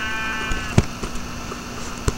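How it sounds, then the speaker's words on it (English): A sheep in a video game gives a single nasal bleat at the start, followed by quiet clicks and small game sounds. "Oh, look, sheepies."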